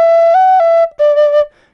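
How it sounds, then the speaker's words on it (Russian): A tin whistle sounds a note with its top hole fully open, a bright steady tone that steps up in pitch, then a brief lower phrase with a small wobble, close and solo. "есть полностью открытое отверстие звучит так."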